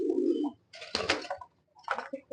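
A pair of high-quality fancy pigeons, black male and dun female, coo up close in a few soft throaty bursts separated by brief pauses.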